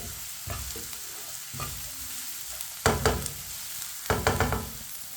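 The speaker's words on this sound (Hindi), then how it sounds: "अब इसे 1 मिनट के लिए पका लेते हैं।" Onions sizzle as they fry in a pan for chicken dishes, a steady hiss broken by the scrape of stirring and a few louder clattering bursts, with no talking.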